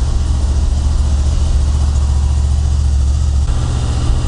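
A Honda VFR800 motorcycle engine idles steadily with a loud, continuous low rumble up close, holding an even tone throughout with only a slight shift near the end and no clear rev.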